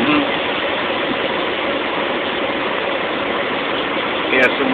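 Truck engine rolling slowly in bottom gear, a steady low rumble running the whole time with a brief rise near the end, heard from inside the cab.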